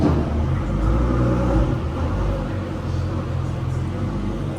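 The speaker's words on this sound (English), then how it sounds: "The Ford GT is parking up right now." A Ford GT's engine rumbles steadily at close range as the car parks, a low continuous drone with slight swells and no talk over it.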